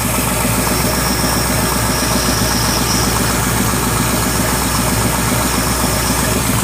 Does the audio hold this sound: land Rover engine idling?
yes